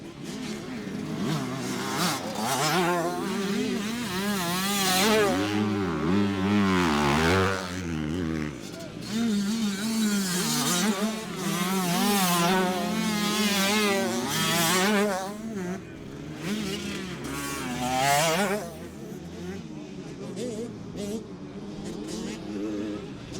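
A motocross motorcycle revs hard through turns on a loamy stubble field, its engine whining up and down in repeated rising surges at mid distance while someone talks over it.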